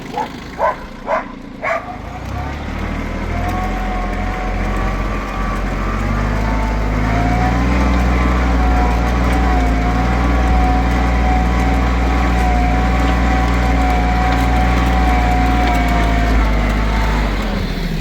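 A tractor pulls a plough through neighbours' plots, its engine a steady, close, droning hum that settles in after a few sharp dog-like barks at the start.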